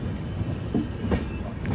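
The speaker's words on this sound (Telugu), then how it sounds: "ఘాట్ సెక్షన్లోనైతే ట్రైన్ నడుస్తుంది" The AP Express, a long-distance passenger train from Visakhapatnam to New Delhi, rolling along the rails near Bhopal; a close, steady rumble with rhythmic clickety-clack of wheels over rail joints, heard from aboard without voices.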